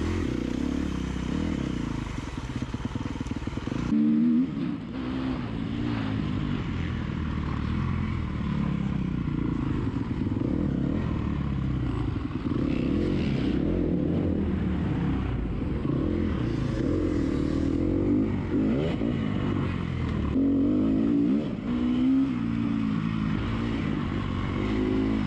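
A dirt bike ridden through a harescramble race course in Winterset, Iowa, its engine buzzing and revving up and down close by, with clattering and scraping over rough terrain throughout.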